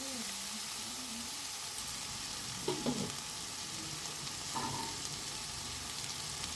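Spices frying in oil with a little sugar while a mother stirs them in a pan; a steady low sizzle runs throughout, with a couple of soft scraping stir sounds, no talking.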